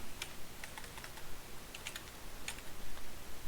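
Quiet typing on a computer keyboard, scattered soft clicks in uneven bursts across a few seconds, no voice over the light background hiss.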